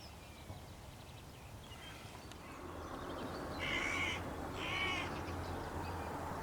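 Hooded crows in an open field give two distinct caws midway through, fairly distant and faint above a steady outdoor background hiss.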